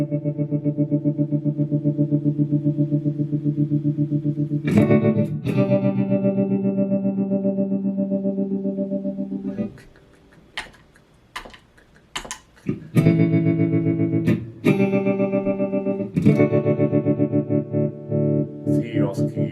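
Electric guitar through a Catalinbread Semaphore tap tremolo pedal with a harmonizer engaged, loud sustained distorted chords pulsing in tremolo, broken by a short gap of scattered picked notes before the chords return.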